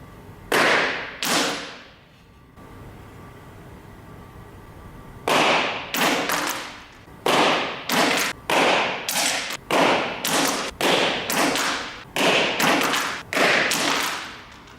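Sharp bursts of balloons popping and a smartphone striking the floor in a free-fall drop experiment, with two impacts early on, then after a short quiet gap a quick run of about ten loud, evenly spaced cracks and thuds close by.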